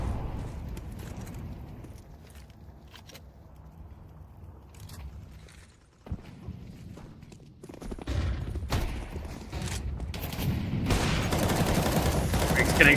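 Rifle and automatic gunfire in a competitive Counter-Strike style match, with sporadic sharp shots early, then denser bursts and fusillades building toward the end, while a caster talks over part of it.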